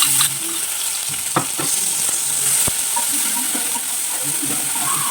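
Garlic and ginger sautéing in a pan with mustard seeds, a loud continuous sizzle with occasional spatula stirs and clicks, close and unbroken.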